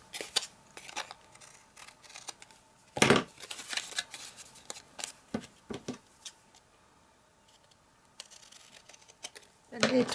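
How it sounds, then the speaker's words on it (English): Scissors snip excess card off a popcorn box during a craft makeover, giving faint, crisp cuts with several sharper snips and paper rustling, recorded close in a quiet room. "If you fold that back, you can cut the excess off."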